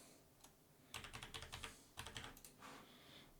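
Fast bursts of keystrokes on a computer keyboard while text is entered in a design app, arriving in quick clattering runs with short pauses between them, close and fairly quiet, with no talking.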